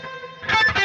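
Electric guitar through the S-Gear amp plugin with heavy delay, a sustained ringing tone that swells into a brighter, distorted chord with wet echoes trailing over less than a second.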